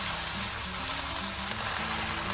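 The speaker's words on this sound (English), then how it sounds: "I'm going to add in the pucuk ubi, which is the sweet potato leaf." Sweet potato leaves (pucuk ubi) fry in a pan with a dense, steady sizzle that holds at an even level throughout, close and without talking.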